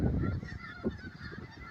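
A flock of snow geese, white-fronted geese and Canada geese honks in a dense, overlapping chorus at Hagerman National Wildlife Refuge, with several distinct nasal calls rising above the crowd noise.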